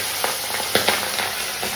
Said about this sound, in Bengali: চলো মাছ ভাজাগুলো করে নিই